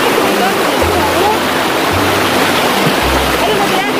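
Loud, constant rush of a strong river current at a stream in Bohol, close and roaring, with faint low voices partly buried beneath the water noise.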